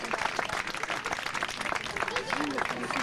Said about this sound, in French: On les applaudit encore très fort.